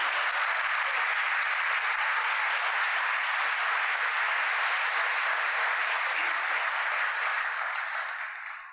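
Sustained crowd applause fills a State of the City gathering, a thick continuous patter of many hands that holds steady and then tapers off toward the end.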